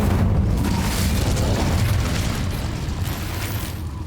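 A fire spell roars in the Hogwarts Legacy video game, a loud, dense rumbling whoosh that fills the whole moment with deep booming energy and a crackling, mechanical edge, steady with no voice.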